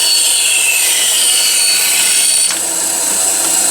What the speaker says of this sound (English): turn on the bandsaw